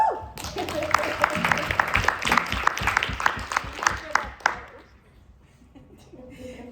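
A crowd applauds loudly with dense, steady clapping that fades out after a few seconds, leaving quieter room sound.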